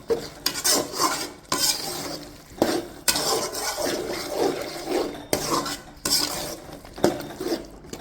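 A spoon scrapes and knocks repeatedly against a cooking pan as keema masala with coriander leaves is stirred, with sharp metallic clinks over a soft sizzle in a steady, uneven rhythm.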